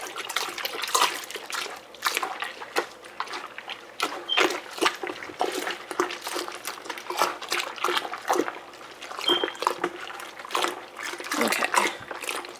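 Hot water with homemade laundry detergent and washing soda stirred by hand in a container, making repeated close sloshing and splashing strokes in an uneven rhythm.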